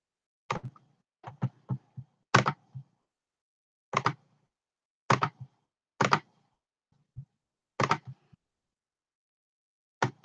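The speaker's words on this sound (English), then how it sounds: "I'm probably clicking so loud." A computer mouse clicks sharply in scattered single and double taps, close and distinct, separated by silence across about ten seconds.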